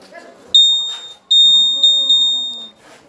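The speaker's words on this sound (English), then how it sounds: "If the hook touches the wire, it will beep loudly like this." Loud high-pitched electronic buzzer beeps in bursts as a hook touches the wire in a wire game, a short tone then a longer one with brief stutters, close by, with faint voices underneath.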